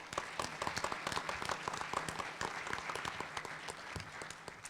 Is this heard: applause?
yes